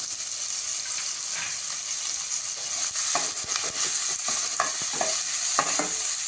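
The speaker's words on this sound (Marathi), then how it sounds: "कांदा ट्रान्सपरंट होईपर्यंत आपल्याला यामध्ये फ्राय करून घ्यायचा आहे" Finely chopped onion fries in oil with asafoetida for a dhaba-style potato curry, a constant close sizzle broken by repeated stirring scrapes and spatula knocks, with no talking.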